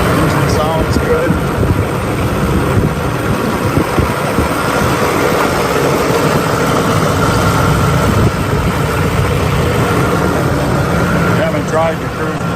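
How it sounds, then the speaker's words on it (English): A muscle car's engine idles steadily and close by, a constant low rumble running the whole time alongside wind noise, with people talking over it. "Engine sounds good."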